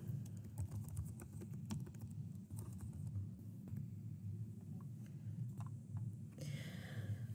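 Fingers type on a computer keyboard in a run of quick, light clicks with irregular spacing, faint and close under a low background rumble; nobody speaks.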